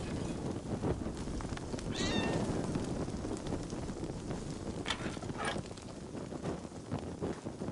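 Cats meowing inside Assassin's Creed Valhalla, a few short high cries over a steady windy rumble and background noise, with no talking.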